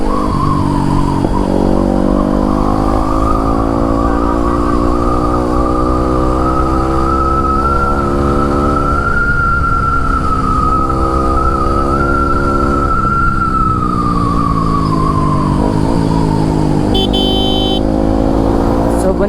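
A Yamaha R15 motorcycle fitted with an Arrow full-system exhaust runs loud and close, its engine note rising and falling steadily through a sustained rev, with people talking faintly underneath.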